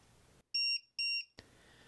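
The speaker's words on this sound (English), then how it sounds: "And if the voltage gets too low, these beepers will beep." A LiPo battery low-voltage monitor on an RC car gives two loud, shrill electronic beeps in quick succession, each lasting about a quarter second, followed by a brief click.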